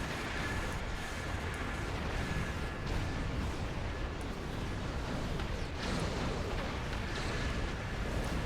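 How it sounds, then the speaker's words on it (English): Ships blow up in a Star Trek Online space battle, a continuous rumbling barrage of booming blasts and crackling bursts that stays loud and dense throughout. "don't fly into the middle of exploding ships"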